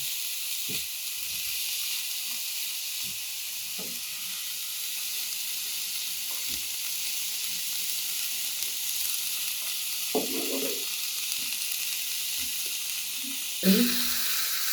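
Vegetables including carrots stir-fry in a pan for a semolina momo filling, giving a steady, close sizzling hiss throughout, with soft scraping stirs now and then and a brief clatter near the end.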